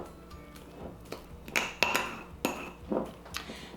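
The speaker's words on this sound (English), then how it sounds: "Then I'm just gonna mash the avocado up." Avocado being mashed with granulated garlic, onion powder and salt, a series of irregular clinks and taps of a metal utensil against a bowl, close and moderately loud, with brief pauses between strokes.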